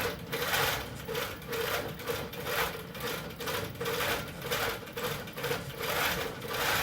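Pro Stitcher computerized longarm quilting machine stitching a round Christmas tree skirt, a steady, fast mechanical whir with rapid needle clatter running continuously and fairly close, no voices.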